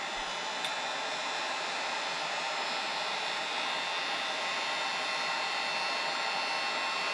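Wagner heat gun on its low setting heating a sticker on a glass baby jar, a steady, moderately quiet airy blowing hiss that runs unbroken throughout.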